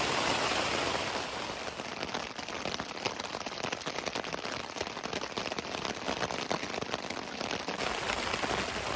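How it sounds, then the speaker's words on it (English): Heavy rain drums steadily and loudly on a tarp tent during an Alaska hunting trip, a dense, continuous patter with no talking. "worst rainstorm, period"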